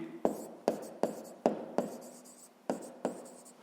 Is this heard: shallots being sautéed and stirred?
no